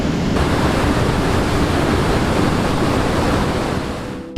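A waterfall at Kakkadampoyil rushes in a steady, loud, broadband roar that fills the whole stretch without any voices, easing slightly just before the end.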